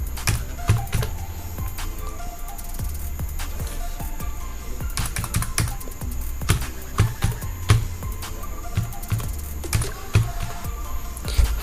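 Someone types a website address into a new browser tab on a computer keyboard, producing close, uneven key clicks and taps in quick runs with a few louder strikes, and no one speaks.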